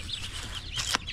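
Several chickens cluck and chatter in a farmyard, with one sharper, higher squawk rising near the end over steady background murmur.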